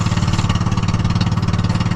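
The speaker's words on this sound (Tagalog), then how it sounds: "Naayos ko pa yung makina." A freshly repaired engine runs steadily and loud up close, its fast, even pulsing beat continuing throughout with no other sounds.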